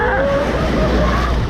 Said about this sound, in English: The waves are here.